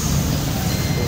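Road traffic at night with a reversing beep sounding over a dense, continuous rumble of trucks and cars close by.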